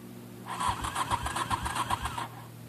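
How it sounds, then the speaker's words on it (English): A 1985 Honda Shadow VT700C motorcycle engine cranks with a choke applied and lurches into life, a rapid rhythmic chugging burst that begins about half a second in, lasts under two seconds and ends abruptly. "Give it a little choke. And it lurches into life."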